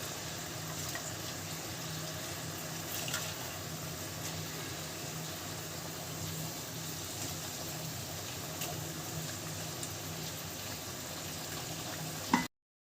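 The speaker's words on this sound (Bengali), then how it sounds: "জল ফুটে গেছে মাছগুলো দিয়ে দিলাম" Rohu fish pieces go into boiling water for a fish bhuna, giving a steady, fairly quiet bubbling and hissing wash that runs unbroken for several seconds and ends in a brief clack, with no talking.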